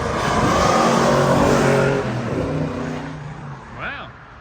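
A car pulls in loudly with engine roar, then slows with a hard braking squeal that fades off into a brief short sound near the end; voices are faint or absent under it.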